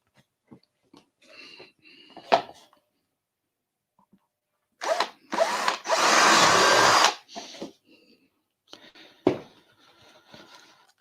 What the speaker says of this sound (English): we'll drill the other hole now